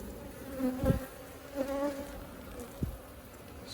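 Honey bees buzz around an opened hive during a frame inspection, a steady low drone with a few louder passes of single bees flying close.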